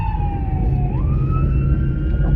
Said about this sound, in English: Okay, that's a police car.